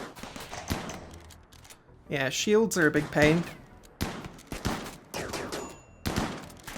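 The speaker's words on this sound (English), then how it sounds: "the charge rifle person is actually shooting through the embrasures" Charge rifle fire in RimWorld, with bursts of sharp, close energy-weapon shots stacked in quick succession, mixed with impacts and heard under someone talking.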